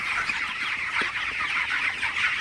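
Broiler chickens kept on a farm floor or raised slatted platform, a dense continuous chorus of clucking and chirping from many birds, steady and close, with no talk.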